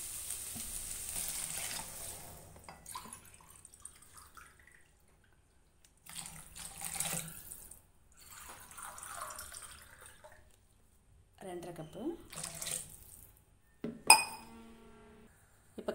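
Two and a half cups of water go into a hot pan of rava for kichadi in several separate pours, each splashing and sizzling briefly. Clinks of a cup or vessel and short quiet gaps fall between the pours.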